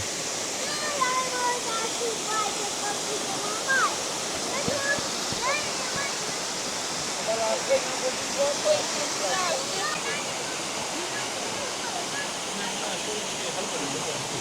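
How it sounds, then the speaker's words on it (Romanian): Lotrisor waterfall in the Romanian mountains, a steady broadband roar of falling water filling the scene, with faint birdsong above it. "Și am ajuns aici la cascadă."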